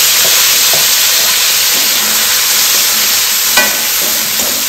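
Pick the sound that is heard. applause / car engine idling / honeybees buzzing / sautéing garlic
sautéing garlic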